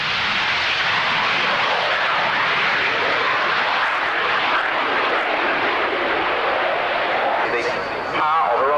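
A jet aircraft with a Rolls-Royce Pegasus 105 vectored-thrust turbofan at the 1993 Coningsby airshow, a loud, broad, sustained roar that fills the whole stretch, with a brief dip and warbling tone near the end.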